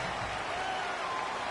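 Stadium crowd roar in a PS4 football video game, a steady, dense wash of cheering noise at moderate level, continuous and without pauses.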